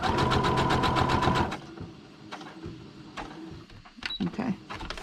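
A sewing machine stitching a frame on paper, with a rapid rhythmic whir for about a second and a half before it stops, followed by quieter handling clicks and a voice speaking.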